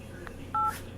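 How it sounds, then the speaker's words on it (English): Telephone keypad tones dialing a customer service number from a phone, two short steady DTMF beeps, the second cut off at the end, over quiet room hiss. "I'm calling customer service or power outage from my phone"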